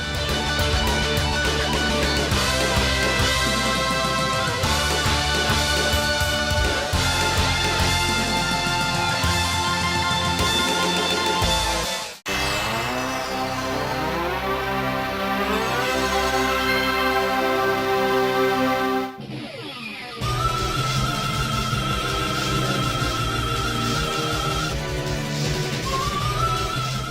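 Continuous electronic Sega Saturn shoot 'em up game music with layered synth melodies and a steady beat, loud throughout, briefly cutting out twice before resuming.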